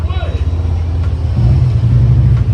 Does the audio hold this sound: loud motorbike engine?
yes